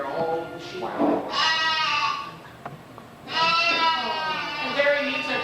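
Sheep bleat in a herd during a puppet show: two long, wavering bleats, then a third, loud and close with short gaps between.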